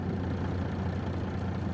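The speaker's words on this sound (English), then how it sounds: "let me move this other truck out of the way." A truck engine in Farming Simulator 25 idles and rumbles steadily at a low, quiet, even level as the vehicle is moved, with no other sounds.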